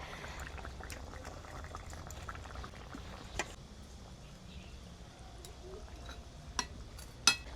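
A fish curry with cauliflower and potato simmers in a pot, a steady soft bubbling that runs throughout at low level, with a few brief clicks near the end.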